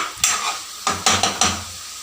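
Red veggie pasta stirred in a pan, with several distinct scraping clatters of a utensil against metal spaced through the clip over a faint sizzling background; no talking.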